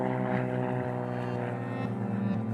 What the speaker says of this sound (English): We're going out to the airfield to go and meet the plane.